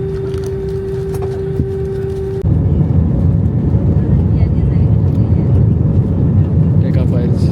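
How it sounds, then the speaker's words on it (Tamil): Qatar Airways passenger jet taking off from Sri Lanka, heard from inside the cabin: a steady tone hums over engine noise, then a sudden jump into a loud, sustained broadband engine roar that holds through to the end. "டேக் ஆஃப் ஆயிடுச்சு."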